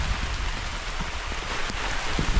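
Heavy rain pours steadily in a hillside valley, a dense broadband hiss with scattered drops hitting nearby surfaces, loud and continuous with no voices.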